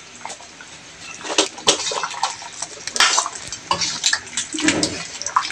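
Chicken pochero with pork and beans, chorizo and saba bananas is stirred in a pot, giving wet sloshing and irregular clanks of a utensil against the metal, close and fairly loud, no one talking.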